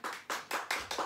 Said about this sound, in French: un tonnerre d'applaudissements pour Jocelyne Les Platines